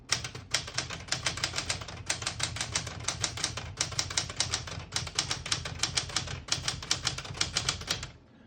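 Rapid typing on a 1977 Smith-Corona Classic 12 portable typewriter produces close, crisp keystroke clatter in quick bursts with brief pauses, ending with a final strike and quiet.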